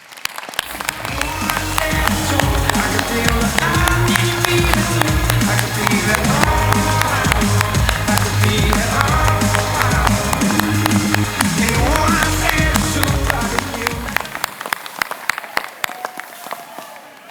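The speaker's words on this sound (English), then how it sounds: "Everyone, please join me in a worthy round of applause" A large graduation ceremony crowd at Massey University in Manawatū applauds steadily for about fourteen seconds, loud and sustained with a little cheering, then breaks off into scattered late claps.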